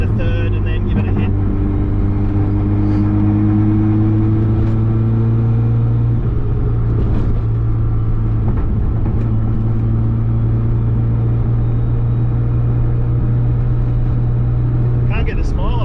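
A Mazda RX7 engine pulls through the gears with a steady droning rumble and rising tone, heard from inside the car at close range with only faint noise on top.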